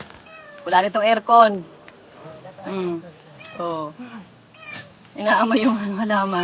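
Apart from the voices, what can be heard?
cat meowing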